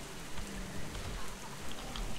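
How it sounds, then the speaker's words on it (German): Steady rain pours down in the outdoor wilderness of the video game Guild Wars 2, a soft, continuous hiss with faint patter, heard alone at low level. "Hier regnet es ordentlich."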